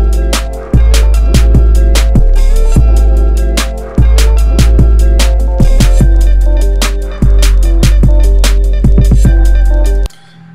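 Drum loop of layered snares and hi-hats with reverb, loud and dense, with steady repeating hits over a booming low end and ringing tails throughout.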